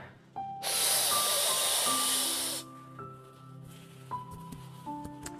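A single deep breath is drawn in through the mouth during a yoga breathing exercise, a steady close hiss lasting about two seconds over quiet background tones.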